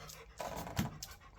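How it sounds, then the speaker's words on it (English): A dog pants close by in quick, breathy bursts, soft and rhythmic, over a quiet background. "dog who just won't be quiet while Dad's trying to do some stuff"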